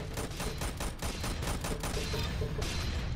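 A shotgun fires in the Roblox-style shooter Arsenal as a dense, loud run of rapid blasts, evenly spaced and close, continuing for the whole few seconds with no talking.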